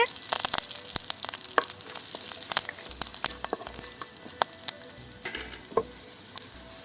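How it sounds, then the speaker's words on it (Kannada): A South Indian tempering of garlic, curry leaves and asafoetida crackles in hot oil for radish sambar, with fairly quiet, continuous sizzling and sharp popping spatters scattered throughout. "ಒಂದು ಕಡ್ಡಿ ಕರಿಬೇವು ಹಾಕ್ತಾಯಿದ್ದೀನಿ."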